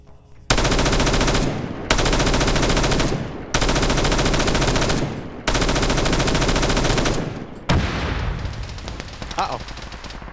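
Fast-firing machine gun in a Warhammer 40K video game, loud sustained automatic bursts in four long volleys separated by brief pauses, followed by a shorter fading burst with an explosion-like tail.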